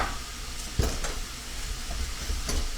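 Onions stir-fried over a high flame for beef and broccoli, a dense, loud hiss of frying with a couple of scraping strokes of a spatula, no talk.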